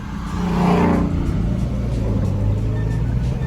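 A Ford Mustang with a DIY modified cam revs up in a brief swelling roar, then settles into a deep, steady, loping rumble close by on the road.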